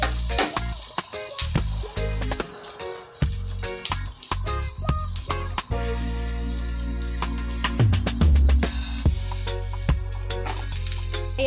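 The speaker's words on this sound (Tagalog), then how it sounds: "Isama na rin natin sa gisa ang ating siling pula." Red chili is sautéed in a pan for jackfruit in coconut milk with shrimp, a loud close sizzle under sharp clatters and scrapes of a utensil against the pan, with no one talking.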